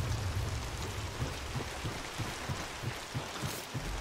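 Heavy rain pours down outside in a steady, dense wash of noise, with soft low thuds of drops striking a surface scattered through it; no voices.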